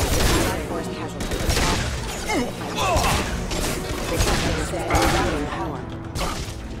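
Heavy pistol fire in the game Mass Effect 2 during combat, a run of loud sharp shots and impacts spread across several seconds amid battle noise.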